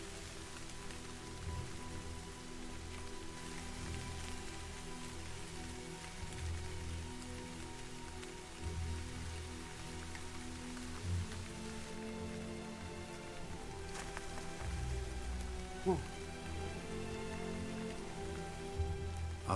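Steady rain falls on a chimpanzee habitat, a continuous soft hiss of drops hitting surfaces that stays even and moderately faint throughout, with a few louder drips near the end.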